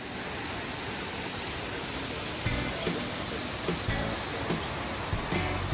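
A waterfall at a mountain resort with swimming pools, a dense, steady roar of falling water close by, with a few faint bumps toward the end.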